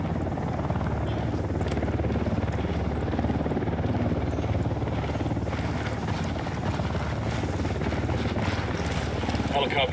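A helicopter's rotor chops steadily and loudly throughout a shooter scene in Ghost Recon Wildlands on PC. The drone is constant and nearby, with faint voices beneath it.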